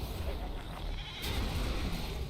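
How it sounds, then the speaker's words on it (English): A sheep bleats in World of Warcraft after being shot, a short game sound effect heard under a player's talk. "I totally shot that sheep by mistake."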